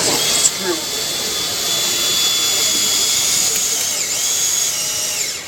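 A power driver sends a self-cutting screw into Nomawood cladding without a pilot hole at a home-build show, producing a steady loud whirring drone for several seconds against a busy hall background.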